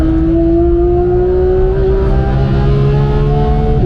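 A Porsche 991 GT3 accelerates hard in third gear on the Nürburgring, its engine roaring loud and close with a steadily rising pitch throughout, and no talk over it.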